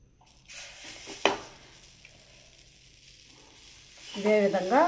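Wheat flour dosa frying on a hot pan gives a soft, steady sizzle with a sharp clink partway through, and a voice speaks near the end.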